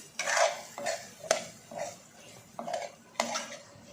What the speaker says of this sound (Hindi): चने को शामिल करने के बाद इसको मैं थोड़ा भूनूँगी